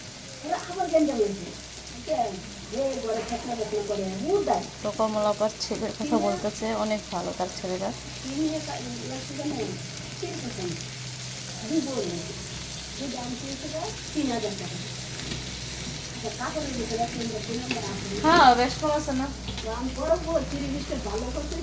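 Fish and onion fry in a pan with a soft, steady sizzle that runs underneath near-constant conversational talk.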